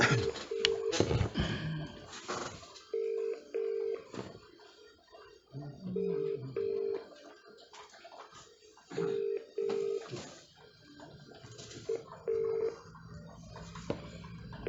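Outgoing call to a law firm: a repeated two-burst ring tone pulses at regular intervals, each pair of short beeps separated by quiet gaps, with faint background rustle and clicks between rings.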